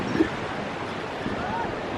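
Steady, broadband rushing of the Chico River in Kalinga, Philippines, a continuous outdoor water roar with some wind, holding an even level throughout.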